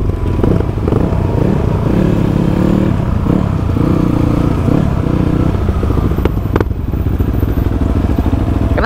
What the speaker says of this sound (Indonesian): meletus motornya, cok.